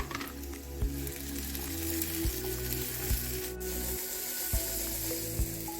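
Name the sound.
chicken frying in a pan with garlic and ginger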